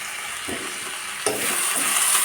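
Tomatoes with onions and curry leaves sauté in a pan for a chicken curry, giving a close, steady sizzle with two brief stirring scrapes, the second louder and followed by stronger frying.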